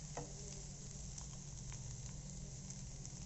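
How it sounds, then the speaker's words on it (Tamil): Vegetables sauté in a pan for varagu veg rice, a soft steady sizzle and patter with small crackles, faint and continuous without talking. "ஸோ இது எல்லாத்தையுமே போட்டு இப்போ நம்ம வதக்க போகிறோம்."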